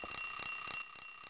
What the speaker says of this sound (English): Oh, that's an alarm clock.